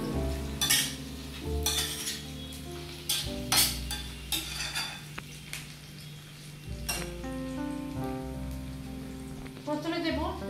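Pan-fried fish sizzles in a pan as it is turned and stirred, giving a crackling hiss with repeated sharp scraping and clinking strokes over a steady low hum.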